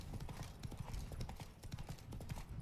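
Rapid clip-clop of horse hooves at a steady trot in the video game The Witcher 3: Wild Hunt, Blood and Wine expansion, continuous and fairly close, without any talking.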